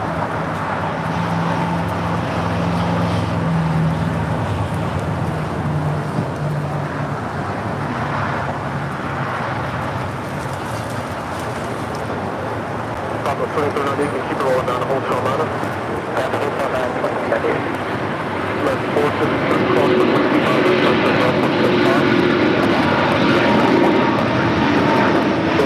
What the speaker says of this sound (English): That was SAS Flight 932 heading to Copenhagen